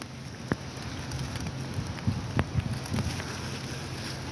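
Rain falls outdoors as a steady, soft patter with light wind noise, broken by a few sharper drips and taps striking nearby surfaces.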